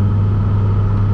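1999 Hennessey Viper ACR held against the rev limiter in fifth gear, giving a loud, steady, heavy engine drone with a deep low rumble and no break, heard from inside the car.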